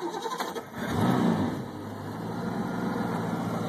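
A 1975 Mercruiser V8 marine engine with an EFI conversion cranks briefly and catches, then settles into a steady, close-up idle rumble.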